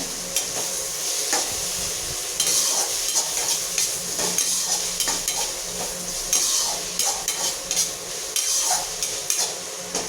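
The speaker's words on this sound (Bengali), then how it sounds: "পেঁয়াজটা ভাজা ভাজা হয়ে এসছে প্রায়।" Onions nearly browned in a hot pan for egg curry: a bright continuous sizzle with rhythmic stirring scrapes and occasional clinks of the spoon, heard up close with no voices.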